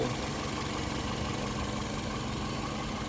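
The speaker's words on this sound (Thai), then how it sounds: "เครื่องเดินนิ่งๆเลยครับ รอบเดินเบา" A 2006 Toyota Vios S engine idles steadily and evenly, a constant low rumble with faint mechanical vibration, close by and uninterrupted.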